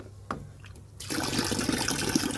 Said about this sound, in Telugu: ఇప్పుడు వాటర్ యాడ్ చేద్దాం